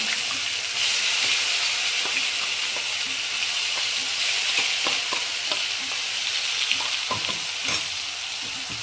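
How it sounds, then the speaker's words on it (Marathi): Spice paste fries in hot oil over a tempering of asafoetida and curry leaves, a loud continuous sizzle close up with scattered clicks and scrapes of stirring throughout. "कढीपत्त्याला मस्त तडका झालेला आहे, त्याच्यामध्ये आपण हा वाटण टाकून घेऊया"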